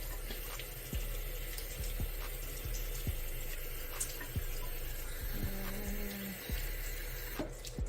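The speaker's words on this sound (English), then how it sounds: "first thing you're going to do is wash your own hands" Steady running tap water splashes into a sink while hands are washed in an esthetics treatment room, a continuous near wash with faint clicks and small knocks, no voices.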